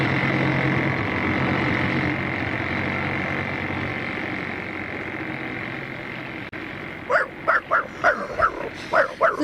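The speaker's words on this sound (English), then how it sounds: "Oh, Brach, you can bark all you like now." A dog barks in a rapid burst of about eight sharp, close woofs after a long stretch of steady low background rumble.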